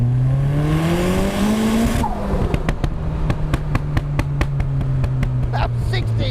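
A Mazda MX5 kit car launches in a timed run, engine howling loud and rising through the revs, then a quick shift into the next gear and a steady strong pull, with a voice briefly heard over it.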